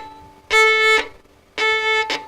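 Fiddle in a bluegrass setting playing two short bowed notes, each ended abruptly as the bow crunches or chokes the string, with a scratchy burst at each cutoff and a pause between them.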